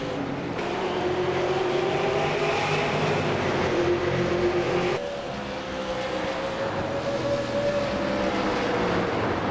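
Race cars in a video game race at Richmond drone steadily on track, a continuous loud engine whine whose pitch shifts as cars pass, with no talking.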